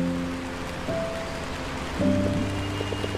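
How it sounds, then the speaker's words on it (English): Rain in the indie video game Until Then hisses steadily and evenly, with soft drips. Sustained low musical tones and a brief voice sit over the downpour. "No, dumbass, I love the rain."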